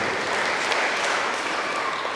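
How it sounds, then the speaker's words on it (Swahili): A church congregation claps steadily in a dense, continuous round of applause that fills the space evenly and never pauses. "Pigia Yesu makofi mazuri."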